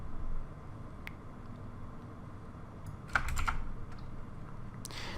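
Computer keyboard keys pressed in Photoshop for an Alt and Control shortcut: a few sparse, sharp clicks, then a quick cluster of keystrokes, fairly faint over a steady background hiss.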